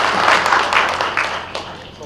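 A burst of audience clapping at a high-level investment stakeholder forum in Kitui, greeting the Principal Secretary's arrival: dense, close hand claps that soften within about two seconds.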